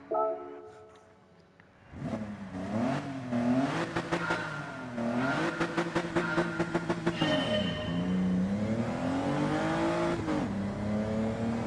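A race car engine in Gran Turismo 7 surges from a low idle into hard acceleration, climbing and dropping through repeated gear shifts with a loud, buzzing whine, briefly stuttering with rapid bangs midway before sustaining a high rev.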